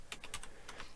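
Typing on a computer keyboard while entering data for a satellite lab simulation, a quick burst of several crisp key clicks in two short clusters, close and clear with no talk.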